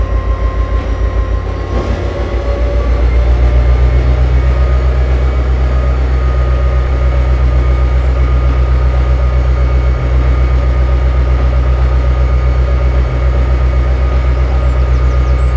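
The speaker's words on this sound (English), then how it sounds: "Powerful locomotive." A powerful locomotive hauling a long train, a loud, steady low rumble and engine drone that keeps going with no break, no voices.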